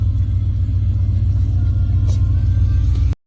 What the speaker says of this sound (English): we're going to start up this truck and get it all cleared out